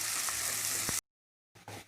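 One cup of finely chopped onion sautés in a hot pan for chicken macaroni, giving a bright hiss that stops abruptly and then resumes after a short silence.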